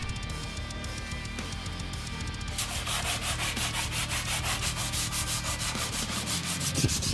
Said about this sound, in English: While sanding the bottom, I discovered a lot more of these twiggly twoodlies.